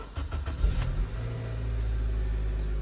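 A manual 2004 Honda Accord, fresh spark plugs fitted, cranks with a few rapid stuttering turns and catches, then settles into a steady, close, even idle hum.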